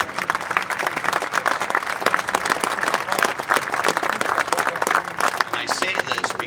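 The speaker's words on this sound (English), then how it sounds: "please give a round of applause" A large audience at a legislative conference general session gives the hosts a round of applause, a loud, dense patter of many hands that holds steady, with some voices mixed in.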